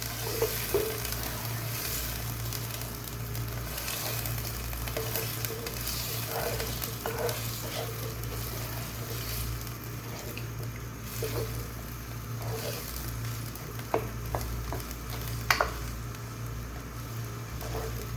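Chicken biryani masala with Kashmiri red chilli fries over full heat in a pot, giving a steady close sizzle with scattered scraping stirs, no voices.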